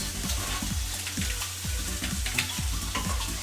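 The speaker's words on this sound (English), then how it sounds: "Stir up my vegetables a little bit." Sausage and peppers fry in a pan while being stirred, a steady close sizzle with rhythmic scraping strokes of the utensil repeating every fraction of a second.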